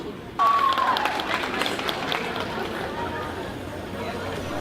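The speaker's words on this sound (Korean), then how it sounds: "심판들이 합산한 선수들의 점수가 발표될 때마다 관객석에서 응원의 박수가 터져나옵니다." Audience applause at a synchronized swimming competition as scores are announced, a sudden burst of clapping from the stands that holds steady and slowly eases, with crowd chatter mixed in.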